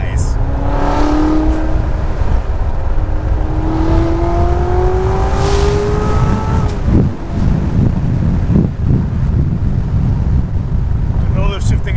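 A Chevrolet Corvette C7 Z06 with a 7-speed manual, its engine revs climbing in a rising drone through gear changes under loud, constant wind roar heard from inside the car, then the pitch settles into a steady rumble.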